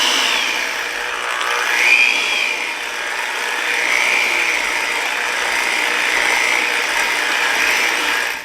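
An electric mixer beating butter, sugar and vanilla for ermine frosting, a steady whirring drone with a slight rising and falling pitch as the beaters work, close and continuous with no talking.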